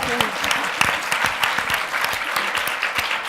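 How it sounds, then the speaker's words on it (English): A conference audience at a women's panel event gives a round of applause, a dense and lively clapping of many hands that stays loud and steady throughout, with no talk over it. "So let's all give them a round of applause."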